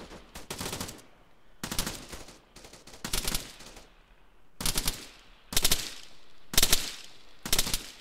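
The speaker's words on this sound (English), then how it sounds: "Exchange of fire taking place from the hilly part of the town out through kind of outskirts of the advancing independent forces" Gunfire is traded in an Arma 3 battle on the outskirts of a hilly town, with repeated bursts of automatic fire of about a second each and short gaps between them.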